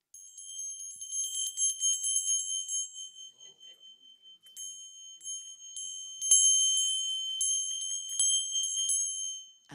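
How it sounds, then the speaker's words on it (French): A small Armenian bell is rung by hand, giving clear, high metallic strikes that ring on and shimmer, struck in a loose irregular series with some quieter stretches, close and alone. "elle m'a offert cette cloche arménienne"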